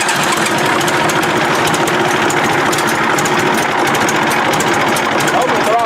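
An old bulldozer's diesel engine runs and idles despite a fuel leak, a loud, continuous rough rumble with steady knocking throughout, close by.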